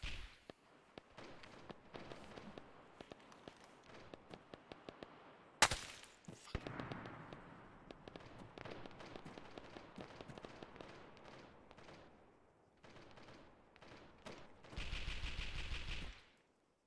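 Gunfire in a video game, with sharp shots scattered through a long stretch: scattered cracks, one louder close report partway in, and denser bursts, at a fairly low overall level with no speech.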